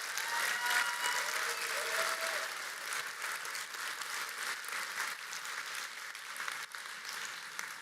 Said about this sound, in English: I think we should have another round of applause for Integrity Check.